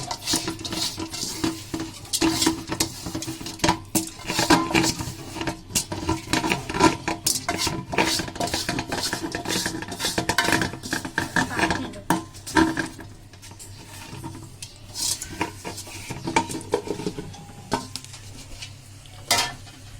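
Washed dal going into a pressure cooker in a home kitchen, with irregular metallic clanks, scraping and clattering of the pot and utensils close by, with occasional brief speech.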